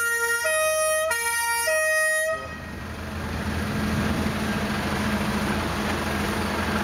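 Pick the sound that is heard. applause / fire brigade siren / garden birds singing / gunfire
fire brigade siren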